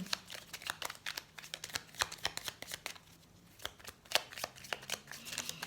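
Oracle cards are shuffled by hand in a series of quick, soft riffling and slapping bursts with a brief pause midway, heard close and fairly quiet with no voice.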